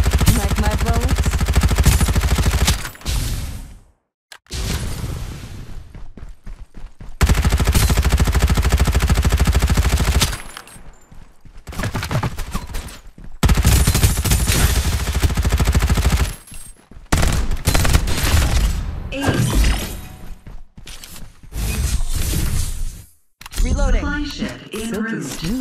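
Heavy automatic gunfire from Farlight 84 rattles in long, dense bursts broken by brief silences and reloads, loud and close, with voice lines spoken in between.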